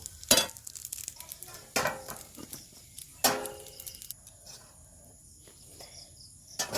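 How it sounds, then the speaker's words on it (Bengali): Dough balls for bread frying in a pan give a faint, steady sizzle, broken by a few sharp clatters of a utensil against the pan; no voices. "বাদ বাকিগুলো আমি একইভাবে ভেজে নেব"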